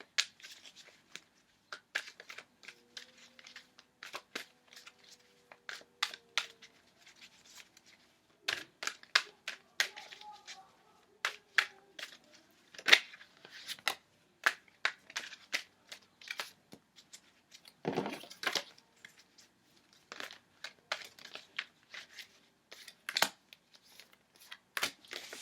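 Tarot cards are shuffled by hand in quiet, irregular bursts of soft riffling and tapping, close up with no talking.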